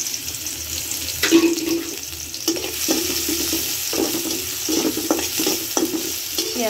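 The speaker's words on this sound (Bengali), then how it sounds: "পেঁয়াজটা হালকা করে ভেজে দেব" Chopped onions fry in hot oil in a wok, a continuous sizzle broken by repeated scraping strokes of a spoon stirring them.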